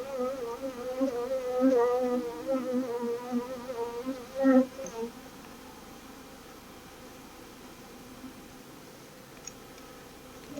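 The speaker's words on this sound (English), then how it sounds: "I'm giving the bees that I just shook off a chance to fly back out." Honey bees buzzing near an open hive during a varroa check, a steady close swarm hum with wavering tones for the first five seconds, then fading to a faint low drone.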